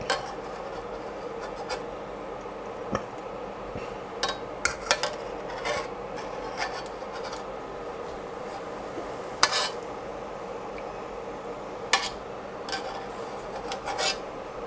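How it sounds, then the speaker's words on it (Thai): A ladle skims foam off simmering pineapple and pork belly soup in a pot, with soft scraping strokes and scattered metallic clinks against the rim over a low steady bubbling background, close, with no talking. "ช้อนฟองออกแบบนี้ครับ จะทำให้น้ำซุปเราไม่ใส ก็ช้อนออก"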